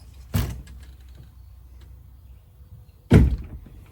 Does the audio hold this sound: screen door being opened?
yes